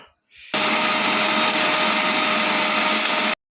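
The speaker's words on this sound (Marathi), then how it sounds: "चला आता यांना मिक्सरमध्ये आपण बारीक करूया मसाल्याला" A mixer grinder whirs loud and steady for about three seconds, grinding roasted peanut and coconut masala with chillies, then cuts off abruptly after a brief quiet start.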